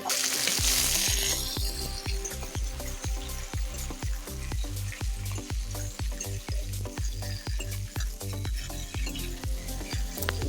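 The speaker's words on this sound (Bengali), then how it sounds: "ক্যাপসিকাম ও কড়াইশুঁটিটা হালকা লাল করে ভেজে নেব" Capsicum and green peas fry in hot oil in a wok with whole garam masala, a bay leaf and dried red chilli, giving a steady loud sizzle punctuated by regular rhythmic scrapes of a spatula stirring throughout, no voices.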